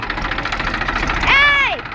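A tractor engine chugs steadily at idle close by in a cotton field, a low rhythmic thrum under nearby talking, with a brief higher whine near the end.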